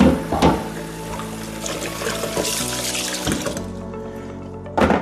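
Running tap water rinsing the plastic lid of a micro honey harvester in a sink, a steady splashing rush with the flow breaking and spattering as the lid is turned under it, close up.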